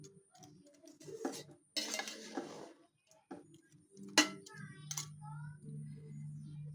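Khichuri being stirred in a metal pot, giving scraping and clinking utensil sounds in irregular bursts, with a steady low hum continuing in the background.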